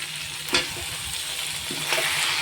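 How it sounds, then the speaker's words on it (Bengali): Malabar spinach leaves dropped into a hot frying pan, giving a steady close sizzle with two louder bursts of crackling and stirring as the greens hit the oil. "পুঁই শাকগুলো এর মধ্যে আমি দিয়ে দিচ্ছি।"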